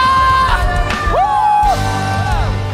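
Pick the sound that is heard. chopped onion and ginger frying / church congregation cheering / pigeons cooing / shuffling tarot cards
church congregation cheering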